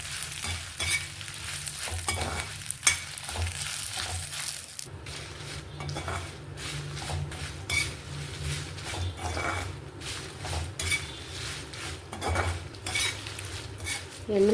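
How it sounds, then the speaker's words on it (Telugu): Dried red chillies sizzling and crackling in a pan over medium flame while a spoon stirs and scrapes, steady frying noise with intermittent metallic clinks throughout, no talking. "ఎండుమిర్చి బాగా ఫ్రై చేసుకుందాం మనం."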